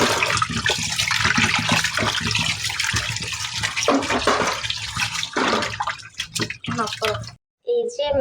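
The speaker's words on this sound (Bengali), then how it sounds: "এই যে মাছগুলো ভালো করে ধুয়ে পরিষ্কার করে নিচ্ছি।" Tengra fish being washed clean under running water, a steady broadband splash and trickle that continues through most of the clip, stops abruptly near the end, then gives way to a brief voice.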